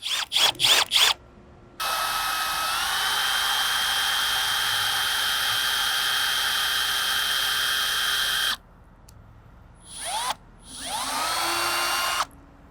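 A power drill drives a drill bit into a broken car antenna, whining steadily for several seconds after a few short bursts, then stops and restarts in shorter runs with rising pitch.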